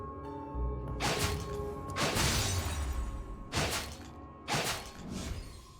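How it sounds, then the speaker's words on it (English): Enemy armor shatters in the roguelite game Crown Trick: several loud, bright crashing bursts, about four in quick succession, each with a short breaking decay over low game sound, with no talking. "So when you shatter their armor,"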